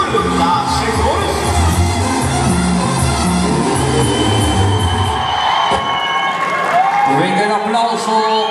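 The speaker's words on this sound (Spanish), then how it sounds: "Venga el aplauso para ustedes." Rodeo crowd cheers and applauds for the Rancho Rincón de Analco bull-riding team, a loud, dense wash of clapping and shouting that holds steady, with a band playing and voices mixed in.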